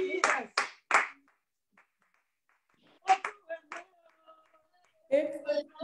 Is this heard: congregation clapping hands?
yes